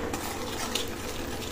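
Cumin seeds and a little sugar fry in hot oil in a pan while being stirred, a steady broadband sizzle with light scraping and clinks of the utensil throughout.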